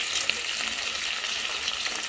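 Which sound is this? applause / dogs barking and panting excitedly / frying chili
frying chili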